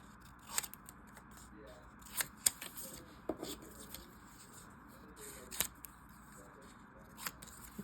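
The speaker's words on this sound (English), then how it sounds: "we're gonna cut on the lines" Paper being cut along printed lines with scissors, a few sharp snips spaced apart over a quiet room background.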